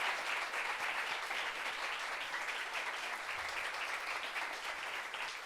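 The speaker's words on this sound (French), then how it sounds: "Applaudissements sérieux, s'il vous plaît." An audience claps steadily and loudly, a thick unbroken wash of applause that holds at an even level from start to finish.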